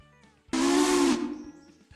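Steam locomotive whistle in the railroad game Railroader: one loud, sustained hissing blast of about two-thirds of a second with a steady low tone, starting abruptly and tailing off into fainter hiss.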